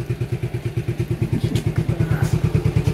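Friend Prateek's motorcycle idles close by at a house on a road trip from Thane to Jawhar, a steady low thumping putter with an even rhythm throughout.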